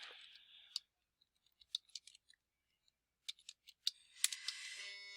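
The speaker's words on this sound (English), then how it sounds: "we're going to go ahead and start typing in this information." Sparse, quiet clicks of typing on a computer keyboard: scattered single keystrokes and short bursts separated by silent gaps, with a brief hiss at the start and end and no talking.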